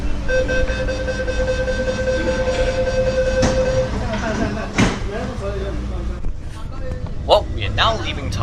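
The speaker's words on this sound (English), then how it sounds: "So now as we arrive at Tai Po Market Station, our old train slowly comes to a stop." An old commuter train pulls into Tai Po Market Station in Hong Kong, heard from inside with a steady rumbling roll, a sustained whining tone that fades as it slows, and brief clanks near the stop.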